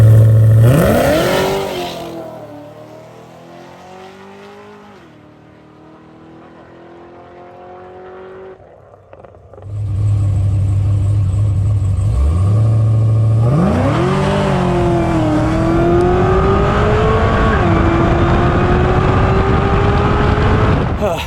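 Supercharged Cadillac CTS-V on a racetrack, engine revving in a short burst, settling to a quieter drone, then roaring into a loud full-throttle pull with a shift partway through, sustained and close.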